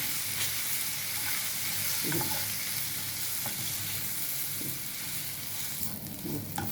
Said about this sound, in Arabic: قلبي كده في التومه كده، وتحط حبه شوربه